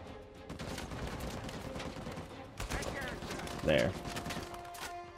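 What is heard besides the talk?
gunfire from the video game Uncharted 4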